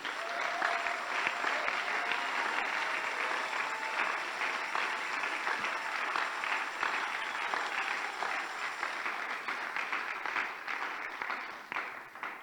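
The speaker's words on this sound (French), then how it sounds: "Puis-je vous prier d'applaudir pour le roi des rois?" Sustained applause from a large crowd, loud and continuous, gradually thinning toward the end.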